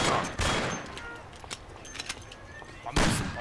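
Gunfire in the video game Mafia: two loud, sharp bursts of shots open and close the passage, with scattered fainter cracks in between.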